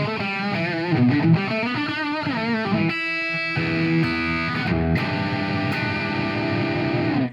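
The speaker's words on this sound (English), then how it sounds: "So you can hear, even with a lot of gain, it's still got that really stratty characteristic." An electric guitar with a single-coil pickup plays through heavy high-gain distortion, a Palm Bay AXX guitar giving a bright, Strat-like tone. Sustained notes and bent phrases ring out loud and continuous with no talk.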